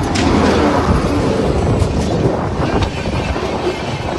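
A train rushes along a railway track at Kazipet in Telangana, India, a loud, steady, close rumbling roar with wind buffeting throughout.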